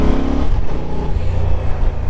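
A 2024 Honda XL750 Transalp with a water-cooled 270-degree parallel-twin engine pulls away and accelerates, its steady engine drone loud and close with rising harmonic tones for about two seconds and no talking.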